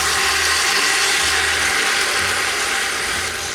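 A 28-ounce can of stewed tomatoes pours into a cooking pot, a loud, steady wet rush and slosh lasting a few seconds, with no voices.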